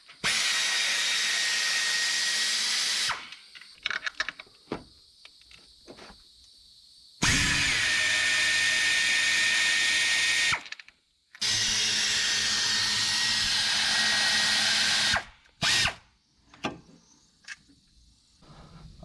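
Power tool driving bolts out of a car part, several loud bursts of whirring roughly 3 to 4 seconds long, separated by short pauses with clinks and handling noise, close up with no talking.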